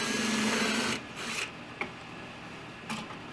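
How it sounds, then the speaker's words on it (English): A handheld drill bores holes for a drawer pull through a drawer front held in a jig while building an entry bench. A whirring burst of about a second is followed by brief lighter spurts and quiet handling knocks. "I'm going to drill out my 2 holes per drawer and secure my drawer pull"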